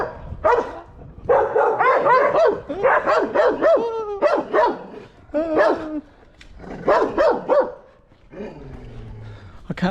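Several dogs on a street in Tuxtla Gutiérrez, Mexico, bark loudly and close by in repeated bursts of sharp barks and yips over about ten seconds, with a brief whimper near the end.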